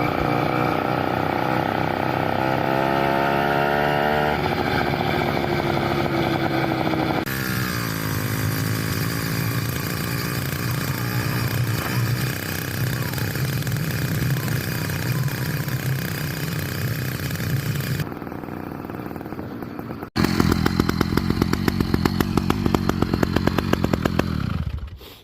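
A Phantom 85 Wraith motorized bicycle's small two-stroke engine runs continuously, a loud buzzing drone that rises and settles with throttle changes, then shifts to a harsher, rougher rattle near the end.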